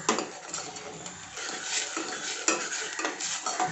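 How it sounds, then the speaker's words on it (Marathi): Masala paste for mutton rassa sautéed in oil, a close sizzle with repeated scraping and clinking of a spoon against the pan as it is stirred in an uneven rhythm. "हे चांगली तांबूस रंगावरती वसतोपर्यंत अशी परतून घेऊयात छान तेल सुटस्तोपर्यंत"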